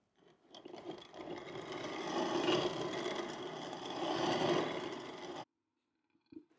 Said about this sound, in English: We like getting attuned to the sound of the grain mill, depending on how coarse or how fine it is.